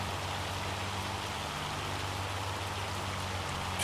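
Hail hammers down without pause in Farming Simulator 25 across a long grain rice field, a thick, uniform wash of impacts, loud and near, with a slight bump in level right at the end.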